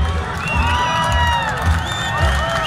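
A crowd at a Razgrad motorcycle rally cheers, whoops and claps loudly and close, in one continuous dense wave of voices and applause.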